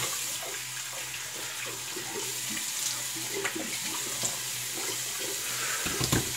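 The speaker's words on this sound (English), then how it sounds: "let's hit that cold water" Cold water runs steadily from a bathroom tap into a sink while a razor blade is rinsed during a wet shave, a continuous close splashing stream that holds for several seconds without any talk.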